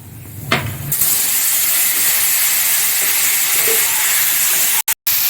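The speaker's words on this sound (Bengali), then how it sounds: "তেলের মধ্যে এখন আমি পাঁচফোড়ন দিয়ে দিচ্ছি।" Panch phoron, a Bengali five-spice mix, hits hot oil for a village-style dish and sets off a loud, steady, broad hiss. The hiss starts within the first second, holds without a break, then cuts out briefly near the end.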